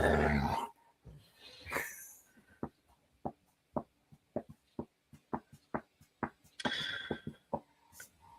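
A dog growls and huffs in short repeated bursts while playfighting on a couch, a rhythmic series of close, low grunting pulses broken by a couple of longer rough growls.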